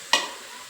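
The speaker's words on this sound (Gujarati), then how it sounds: "તેલમાં ફ્રાય કરે છે." Chopped cabbage hitting hot oil in a home kitchen, one sudden sharp hiss that fades into a quiet steady sizzle, no voices.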